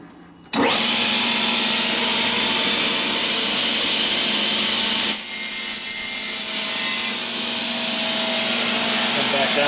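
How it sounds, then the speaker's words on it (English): A Striebig vertical panel saw starts up with a sudden loud onset and runs in a steady, dense whir through a test cut into a panel, with a brief shift partway through as the blade works the material. "I'll do that test cutting procedure over again."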